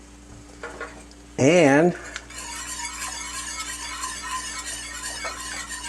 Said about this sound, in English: we're going to keep stirring that.